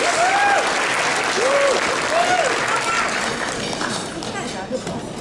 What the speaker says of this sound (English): get a round of applause from our friends